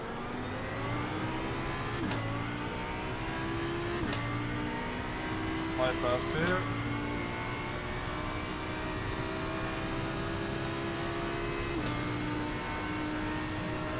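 A race car engine in the iRacing simulator drones steadily through a wet-weather lap, revs climbing then dropping sharply at several gear shifts, while someone talks over it.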